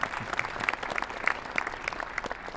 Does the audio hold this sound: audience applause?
yes